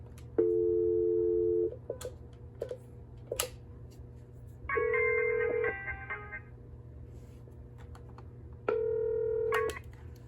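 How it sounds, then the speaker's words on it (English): A Cisco 7962G IP phone placing an outgoing call: a steady dial tone, then bursts of multi-tone keypad dialing beeps and a further tone, clear and close with no talking. "We're going to click on new call and call my other phones."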